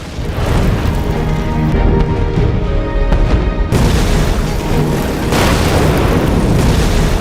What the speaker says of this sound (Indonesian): Ledakan dahsyat ini mengguncang bunker